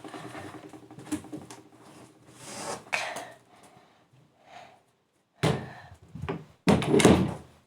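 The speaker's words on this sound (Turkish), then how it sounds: "Dur kapıyı kapatmam gerekiyor." Somewhere indoors in a home, a door is pushed shut, giving a few loud, close thuds and knocks with rustling and quieter handling noises between them.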